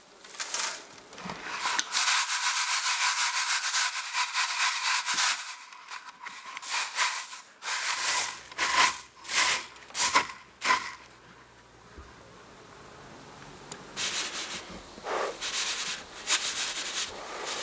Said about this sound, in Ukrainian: Потім візьміть дрібне решето, яке відокремить насіння від пилу.